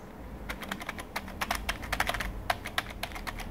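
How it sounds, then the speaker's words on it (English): Keys pressed on a Logitech MK270 wireless keyboard, a quick run of close, crisp plastic clicks in uneven bursts, alone without talk. "I'm just gonna press the keys to hear the sound."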